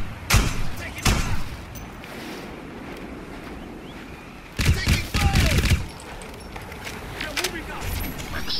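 Gunfire in the video game Crysis, with sharp loud bursts of shots arriving in clusters over a windy, surf-like outdoor ambience, plus fainter distant pops and an in-game voice calling out.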